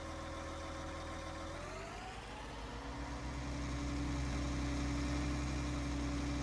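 A tractor engine idles steadily in Farming Simulator 19, a low, even mechanical drone that shifts pitch slightly midway and then holds at a slightly fuller, louder level, with no voices.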